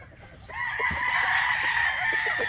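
A young gamecock stag crows once, loud and close, its drawn-out call ringing over faint background noise with a few clucks near the start.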